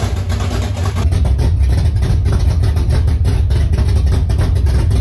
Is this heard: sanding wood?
no